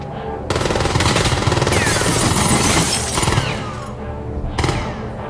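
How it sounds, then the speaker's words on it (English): Rapid Uzi submachine gun fire in the 1984 action film The Terminator: sustained dense bursts of loud automatic shots with shattering debris, a short break, then another burst near the end. "The way he's shooting that Uzi is funny to me for some reason."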